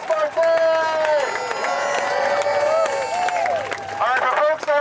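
A rally crowd outside a New York City immigration court claps and cheers for Councilmember Chris Bartet, steady, loud applause mixed with raised voices and whoops for several seconds.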